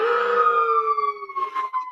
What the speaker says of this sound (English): that's got to be a fire engine